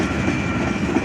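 A Union Pacific manifest freight train rolls past on the track near a railroad crossing, a steady close rumble with rhythmic clickety-clack of wheels over rail joints, no voices.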